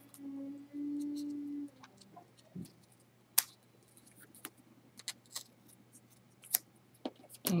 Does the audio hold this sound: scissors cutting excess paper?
yes